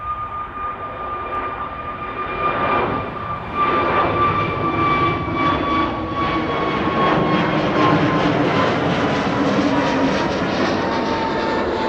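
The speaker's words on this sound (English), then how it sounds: "one after the other KLM Embraer is taking off" A KLM Embraer regional jet takes off at Amsterdam Schiphol, a sustained jet roar with a thin engine whine that strengthens partway through and holds at a steady, fairly close level.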